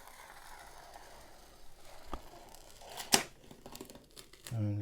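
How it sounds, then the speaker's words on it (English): A protective cover being peeled back off a diamond painting canvas, with faint crinkling and tearing, a few sharp crackles midway and a closing rustle, fairly quiet with no talk. "hold the canvas down and just peel it back"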